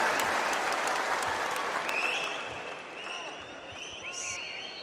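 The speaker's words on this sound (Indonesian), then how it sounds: "Tepuk tangan dulu dong untuk Mas Ganjar" A crowd of PDI-P party cadres claps for presidential candidate Ganjar, with loud applause at the start that gradually thins and fades over a few seconds, while faint voices come through.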